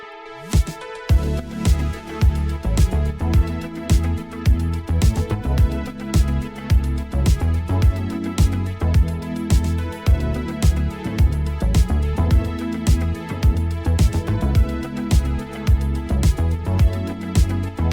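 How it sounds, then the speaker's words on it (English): Intro of an electronic track, a full mix driven by a steady arpeggiated synth line over punchy drums and bass, loud and continuous throughout with no voices. "the intro in context with the arpeggiator line sounds like this"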